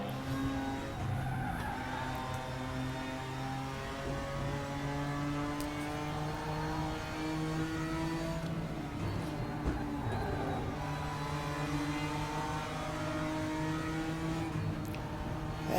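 GTR4 race cars lapping Bathurst in the video game RaceRoom, engines droning steadily with layered, shifting revs from several nearby cars and occasional tyre scrubs, loud and continuous without talk.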